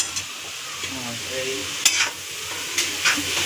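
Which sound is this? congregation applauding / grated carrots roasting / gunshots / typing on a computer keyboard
grated carrots roasting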